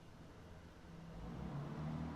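Car engine noise from the video game Higurashi When They Cry, a low steady rumble that swells slightly, heard alone at a quiet level.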